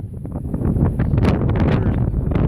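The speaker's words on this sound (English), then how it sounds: "You can see where the wind's picked up." Strong winter storm wind buffets the microphone in continuous roaring gusts, loud and blustery throughout, with no voices, in Efland, North Carolina.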